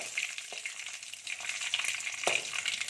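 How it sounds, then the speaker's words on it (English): Red chilli dropped into hot oil for a Karnataka-style lunch dish, a soft, steady sizzle with a few faint scrapes, quiet and close. "I'm going to add the red chilli"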